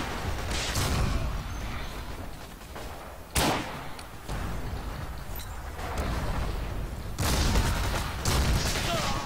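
Commander artillery shells land in Forgotten Hope 2 with several separate booming impacts spread over the clip. Dense battlefield noise and gunfire fill the gaps between them.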